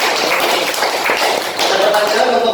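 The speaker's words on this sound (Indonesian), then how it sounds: "Kasih tepuk tangan dong buat yang" Loud, dense applause from a classroom audience during an Indonesian teaching practice session, continuous clapping filling the whole stretch with a brief dip midway.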